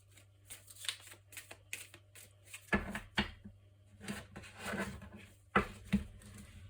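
Oracle cards of a love deck being shuffled for a reading, soft papery riffles and slides in short repeated bursts, close and quiet over a faint low hum.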